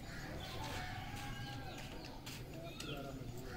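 Breeding pigeons in a loft coo softly amid a busy, noisy background, with the calls faint and partly masked throughout.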